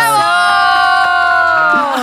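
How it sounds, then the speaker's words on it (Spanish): A loud studio audience at a podcast taping cheers and whoops with sustained excited voices, a steady wall of enthusiasm throughout. "Un fuerte aplauso para recibirla."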